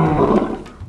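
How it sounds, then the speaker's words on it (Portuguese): A lion's roar sounds in a jungle setting from a children's dinosaur adventure film, a loud, deep, rumbling bellow lasting under a second with no talking over it. "Rugido de leão, hein? Ouviu um rugido?"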